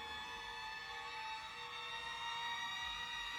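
A sustained bright string texture swells gradually, dense and high, holding steady with no voices.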